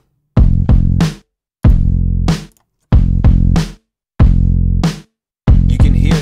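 Kick drum and bass guitar play together in five separate short phrases, each opening with punchy thumping bass drum attacks over sustained low bass notes, then dropping to silence between repetitions.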